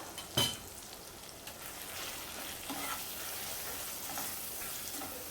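Red chilli powder, coriander powder, turmeric and garam masala sauté in hot oil for an Agri-style chavli, eggplant and potato curry, a soft, steady sizzle with a sharp stirring clatter near the start, heard close and alone.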